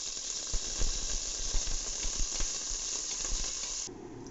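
Onion and ginger sautéing in hot oil in a pan for chicken tinola, a dense continuous sizzle and hiss with rhythmic stirring scrapes, the sizzle easing off near the end.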